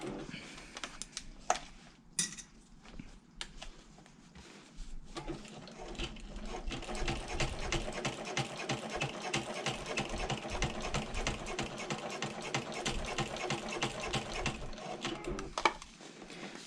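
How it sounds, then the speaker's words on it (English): A sewing machine stitches a half-inch seam around the top of a bag, joining liner to exterior; after a few scattered clicks and handling noises it runs in a steady, even hum with a rapid needle rhythm for most of the stretch. "we are just going to sew around the top at a 1/2 inch seam allowance"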